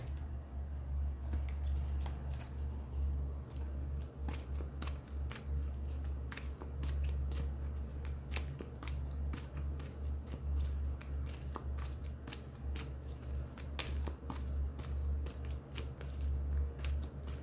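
Tarot cards are shuffled during a reading, giving a soft, continuous riffling and patter of card edges with rapid repeated flicks over a low steady background hum.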